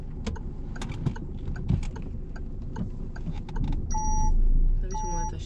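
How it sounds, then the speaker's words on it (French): Inside a car during a driving test, a high electronic warning beep sounds in two repeated bursts over engine rumble and clicking mechanical noises. "j'ai ma voiture qui continue à biper"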